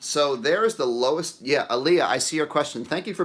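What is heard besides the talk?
No everyday noise stands out behind the speech.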